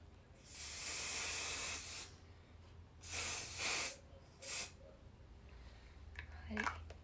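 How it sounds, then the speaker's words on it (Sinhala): Makeup fixing spray sprayed in three separate bursts: a long hiss of about a second and a half, then two shorter ones, close and fairly loud over a low background hum. "දැන් මේක ස්ප්‍රේ කරලා ටිකක් වෙලා තියන්න කිව්වා."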